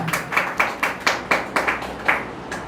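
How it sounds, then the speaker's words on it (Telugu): A church congregation claps hands loudly in a steady rhythm, about three to four crisp, strong claps per second, with no talking over them. "చప్పట్లు కొట్టండి గట్టిగా"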